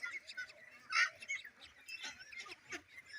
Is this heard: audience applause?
no